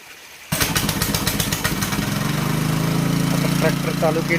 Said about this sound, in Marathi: ट्रॅक्टर चालू केलेला आहे.